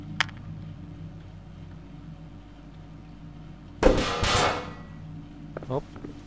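A hammer smashing in the video game Estranged: Act I gives one loud, close crash with a brief rattling tail, then a smaller knock, over a low hum and faint background noise.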